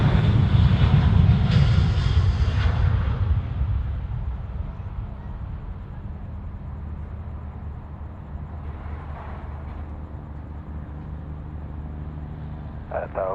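A large airliner lands at Sydney Airport on runway 34 left: a loud, broad engine roar that fades over the first few seconds into a steady distant rumble, with faint radio-like chatter near the end.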